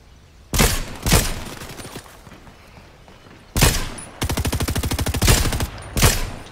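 Fortnite gunfire: a few separate bursts of shots, then a longer rapid volley and two more single blasts, loud and close with no talking.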